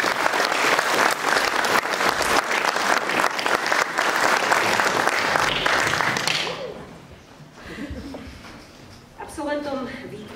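Loud, dense audience applause fills a school art and music gala concert hall for about six seconds, then fades into someone speaking with scattered claps.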